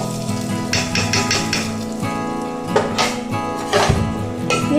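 Panch phoron spices hitting hot oil as they are tipped into khichuri, giving a loud steady sizzle with a few sharper clatters and bursts of crackle, no voices.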